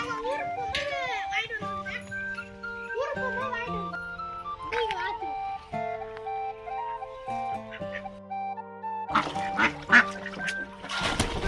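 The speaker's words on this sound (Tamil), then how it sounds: "இந்த வாத்து பேர் நாட்டு வாத்தா? மணிலா வாத்துன்னு சொல்லுவாங்க." Manila ducks quacking repeatedly, close by, with busy overlapping calls and some background voices, growing louder and more crowded toward the end.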